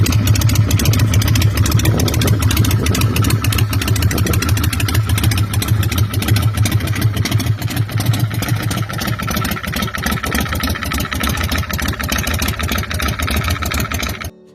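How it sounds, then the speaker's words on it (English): A 1997 California Motorcycle Company Rocket 88 with a Harley-Davidson engine runs close by, a loud, continuous rumbling idle with an uneven, loping pulse that holds throughout. "this 1997 California motorcycle company Rocket 88, powered by a reliable Harley-Davidson engine"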